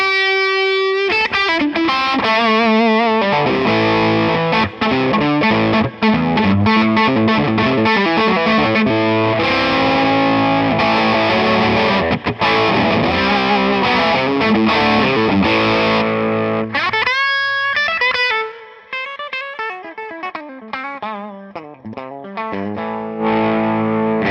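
A loud, heavily distorted electric guitar plays chords and riffs through a Koch Little Gristle amp with a pedal engaged, with a shimmering chorus-like wash and reverb, before tapering into quieter sustained notes near the end.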